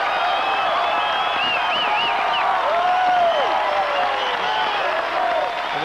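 Crowd at a UAJ basketball game cheering and applauding, a dense, steady roar of voices and clapping lasting throughout with whistles and shouts rising above it, fairly close and loud.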